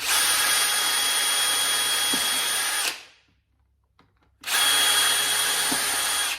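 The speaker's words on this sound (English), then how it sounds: "my drill bit, and drill them all the way through" A power drill whines loudly and steadily, drilling holes through parts for a salvaged lamp build, stops briefly with a faint click in the pause, then starts again at full speed.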